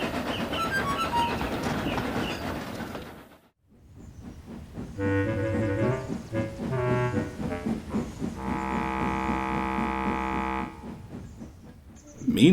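Henry, a steam engine, pulls a local passenger train along the rails, with a rhythmic chuffing and rolling clatter at moderate loudness after a brief pause, joined by sustained tonal whistle-like sounds and music-like layers.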